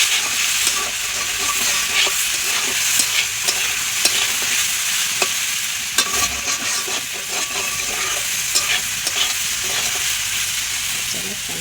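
Potato slices sizzle loudly in an oiled pan on a home stove, a continuous frying hiss punctuated by frequent scraping and tapping as a spatula turns them, with no talking.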